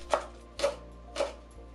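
A knife slices the green part of a spring onion into thin rounds, giving three crisp, evenly spaced chops on a board, close and clear with no talking.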